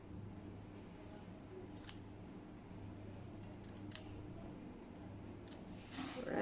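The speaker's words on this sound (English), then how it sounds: "you don't have to cut a neat V shape also, you can just snip it like that" Scissors snip a V shape into fabric seam allowance while sewing a trouser side pocket: a few short, crisp cuts spaced apart, close but quiet, over faint room noise.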